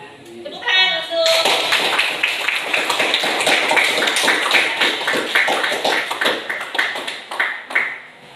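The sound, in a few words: applause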